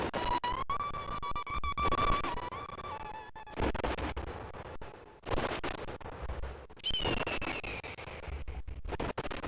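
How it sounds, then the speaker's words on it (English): In The Legend of Zelda: Twilight Princess, a wolf howls the Song of Soaring, a short series of sustained tones that step up and down in pitch, loud and close, over game sounds. "Yeah, that's totally the Song of Soaring."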